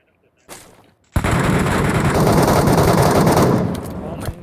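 Sustained automatic gunfire from the Metro Royale video game, fired at a boss in a dense, loud, continuous burst lasting about three seconds after a brief earlier shot.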